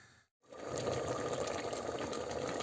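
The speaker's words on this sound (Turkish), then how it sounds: "Şimdi şöyle fasulyemizin suyunu ekleyelim." Meat broth is poured into a pot of beans cooking with tomato, a brief gap and then a steady, soft gushing splash of liquid that continues to the end.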